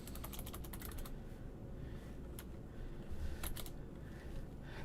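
Computer keyboard typing while coding JavaScript: a quick burst of key clicks at the start, then scattered single keystrokes, close and fairly soft against a low room hum.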